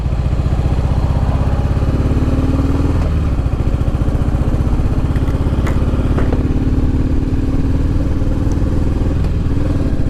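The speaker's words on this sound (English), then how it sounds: "No power whatsoever. Oh, this is bad. It's running really horrible." A motorcycle engine running badly with no power, riding in the Florida Keys, holds a loud, steady, rough drone with clattering pulses throughout, close and continuous with a slight pitch change partway.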